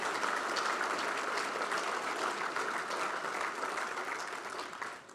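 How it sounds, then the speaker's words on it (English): An audience at a World Plumbing Day event claps for an apprentice of the year, a full, sustained round of applause that holds steady before tapering off near the end. "I think we should give her a round of applause for that."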